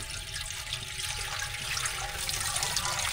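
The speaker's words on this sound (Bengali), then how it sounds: "প্রথমে ছেঁকনি দিয়ে ছেঁকে রস ঢালা হচ্ছে" Date palm sap is poured through a strainer into a pot to make patali jaggery, giving a steady, close splashing trickle of liquid that runs continuously throughout with no talk.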